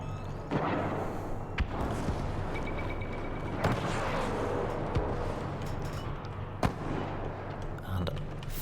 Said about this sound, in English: Explosion, I think that was a proximity bomb.